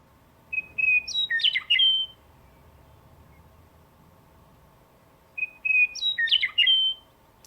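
Instrumental passage from a chamber concert piece imitating western meadowlark song: two bright, whistled phrases of rising and tumbling chirps separated by a few seconds of quiet, fairly soft over faint background hiss.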